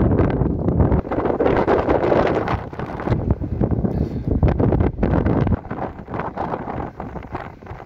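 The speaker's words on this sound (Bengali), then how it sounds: "এখানে প্রচণ্ড জোরে হাওয়া বইছে" Strong wind at Sirsir La, a high Ladakh mountain pass at about 15,761 feet, buffeting the microphone in loud roaring gusts that rise and ease, with no voices.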